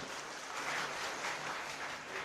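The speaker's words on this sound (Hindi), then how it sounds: "जोरदार तालियों से अभिनंदन किया" A rally crowd greets a chief minister with continuous, dense applause, a steady wash of clapping from many hands without pauses and no voices over it.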